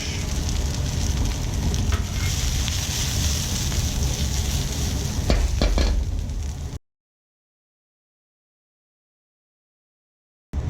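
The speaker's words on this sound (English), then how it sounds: "And we're going to stir fry the scallions, the carrot," Scallions, carrot and radish stir-fried in a wok for pad thai give a loud, steady sizzle with scraping stirs for about seven seconds, then silence, with the sizzle returning briefly at the end.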